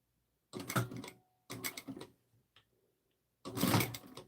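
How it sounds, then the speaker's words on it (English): A sewing machine stitches fabric pouch pieces right sides together with a quarter-inch seam. Three close, steady bursts of stitching are separated by short pauses, with no talking. "we're going to sew them right sides together at 1/4 of an inch"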